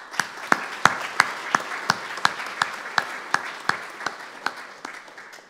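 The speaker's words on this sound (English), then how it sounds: "I think you all deserve a round of applause" A round of applause at a Hampton Academy Memorial Day school assembly: a modest group claps in sparse, distinct hand claps that thin out gradually over about five seconds, with no talking.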